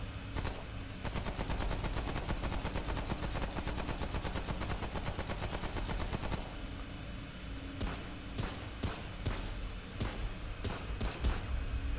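Rapid automatic fire from a machine pistol in the shooter game Remnant: From the Ashes, a dense loud burst for about six seconds, then several shorter separated bursts with brief gaps.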